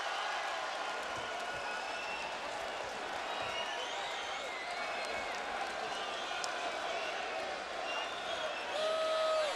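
Arena crowd at the Tomasz Adamek vs Jonathon Banks boxing match, a steady, dense roar of many voices with scattered claps, heard under a commentator's talk throughout.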